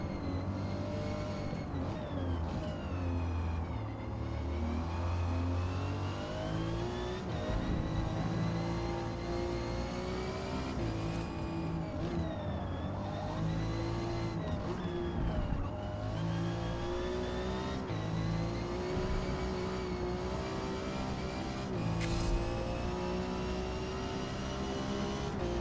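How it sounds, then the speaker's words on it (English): A car's engine in the Forza Motorsport racing game revs hard, climbing close to the rev limiter in repeated pitch sweeps through gear changes, continuous and steady with no talk. "I shouldn't hit the rev limiter, but I should come awful close."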